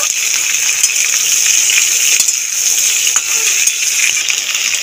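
Sweet potato and pumpkin pieces fry in hot oil in a Bengali kitchen, giving a loud continuous sizzle with scattered clinks and scrapes from stirring throughout.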